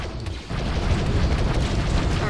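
Flak cannon fire in Star Wars Battlefront 2 booms continuously all around, a loud, dense stretch of overlapping blasts and explosions that swells after a brief lull.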